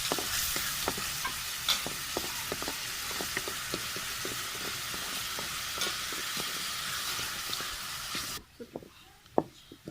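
Ground onion fries in oil until brown, with a steady sizzle and frequent scraping, clicking strokes of a spoon stirring the pan; the sizzle drops off sharply near the end, leaving a few quieter scrapes.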